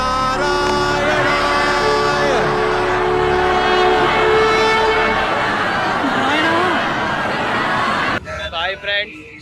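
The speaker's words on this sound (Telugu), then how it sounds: "ఇప్పుడే ట్రైన్ దిగినాం ఇక్కడ త్రివేంద్రంలో" Train noise at Thiruvananthapuram railway station, a loud sustained rumble with tonal horn-like sounds through most of the clip, close by, ending abruptly with a short burst of voices.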